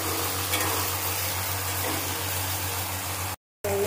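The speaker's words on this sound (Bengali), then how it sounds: "কত সুন্দর মশলাটা আমি কষিয়ে নিয়েছি" Spice paste for egg curry fries in a pan while being stirred, giving a steady, dense sizzle with low hum, broken by a brief silent gap near the end.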